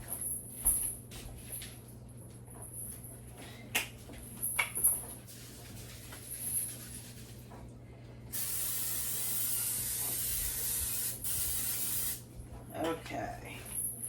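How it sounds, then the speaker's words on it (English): Cooking spray hisses into a crock pot in one long, steady burst of several seconds, close and fairly loud. Quieter kitchen handling noises come before and after it. "the first thing I want to do is spray my crock pot"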